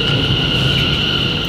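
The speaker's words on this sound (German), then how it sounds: "Da ist unser Zug." A train arriving at a London station, heard as a steady, loud rumble with a constant high whine of motors and wheels throughout, no voices.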